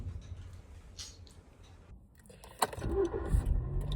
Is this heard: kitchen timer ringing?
no